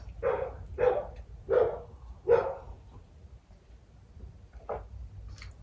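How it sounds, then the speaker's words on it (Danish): A small dog barks outdoors in four sharp, evenly spaced yaps at moderate distance, then falls quiet before one last bark. "Der er lige en lille hund, der skælder ud der."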